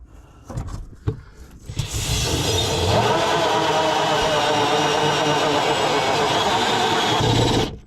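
After a few handling knocks, a loud torque drill whirs up and runs steadily for about six seconds, drilling continuously through a wall before stopping.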